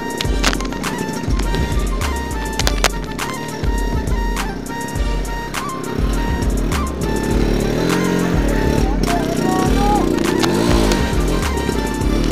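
Offroad motorcycles such as a Yamaha RX100, Yezdi Roadking or Jawa 250, stuck in terrain, with one engine revving hard in repeated loud bursts as its tyre spins, a continuous close rumble throughout and faint voices now and then.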